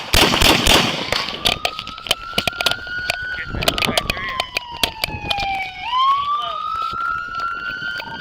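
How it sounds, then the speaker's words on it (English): Sharp gunshots ring out in a rapid irregular series during a police chase after a man with a shotgun, loud and close, while a police siren wails steadily underneath. "Shots fired, shots fired."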